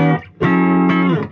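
An electric guitar with a moderate reverb setting plays two loud sustained chords, each fading into a short reverberant tail before the next strike.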